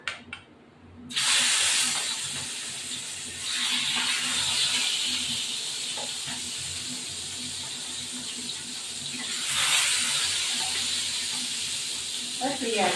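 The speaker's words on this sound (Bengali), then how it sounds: "এবার এই মাছটাকে আমি দিয়ে দেবো ভাজা বসিয়ে দিলাম।" Rohu fish fries in hot oil, giving a loud, steady sizzling hiss that begins abruptly after a brief quiet start and swells again near the end, with occasional faint voice underneath.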